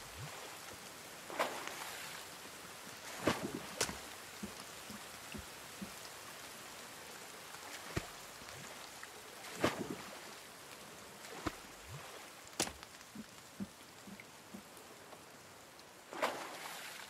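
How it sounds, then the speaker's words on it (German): Steady rain falling in the survival game The Forest, a dense continuous patter with scattered louder drops and splashes throughout, no talking. "Ja, es regnet wieder."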